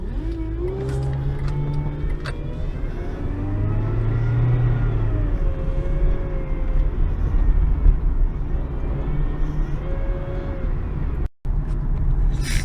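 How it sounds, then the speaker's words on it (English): Inside a 2001 Honda Civic on a drive, a steady engine and road drone runs throughout, with whining, shifting tones from noisy power steering rising and falling over it. "Yeah, the power steering is really noisy."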